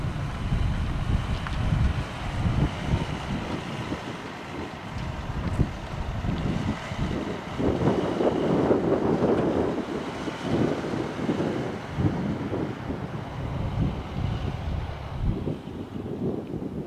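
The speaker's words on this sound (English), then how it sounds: "It's much windy and colder up here." Strong wind gusts across a high, cold viewpoint in Yellowstone National Park, roaring and buffeting the microphone in a loud, continuous rumble with surging bursts and no talk.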